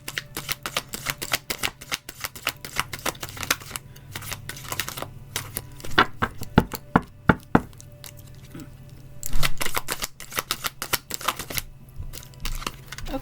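Oracle cards are shuffled and pulled by hand, giving rapid, close flicking and tapping bursts with short pauses between runs and a few louder knocks, with no talking.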